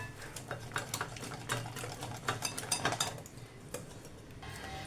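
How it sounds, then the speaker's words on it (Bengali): Batter being mixed by hand in a bowl after baking powder, cardamom powder and cinnamon go in, giving a steady run of soft scraping and stirring strokes with light clinks of a utensil against the bowl. "বেকিং পাউডার, আর একটু এলাচের গুঁড়ো, আর একটু দারচিনি। এটা দিয়ে মেশাতে হবে।"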